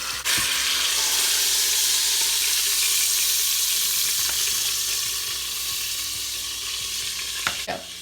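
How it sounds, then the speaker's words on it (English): A beef pot roast sears in an Instant Pot with a loud, continuous sizzle that holds steady for several seconds, with a faint scrape near the end. "So I'm gonna let that sit for a minute and sear nicely"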